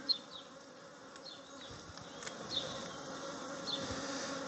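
Bees buzzing at the entrance of a Kenyan top-bar hive, a steady close insect hum with individual bees whining past at intervals, no voices.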